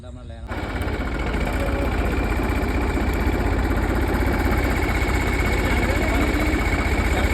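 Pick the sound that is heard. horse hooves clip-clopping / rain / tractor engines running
tractor engines running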